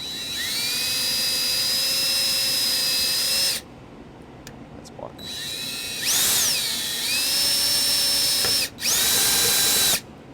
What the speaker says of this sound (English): we're going to drill a 3/32 pilot hole in this spot and then attach our ground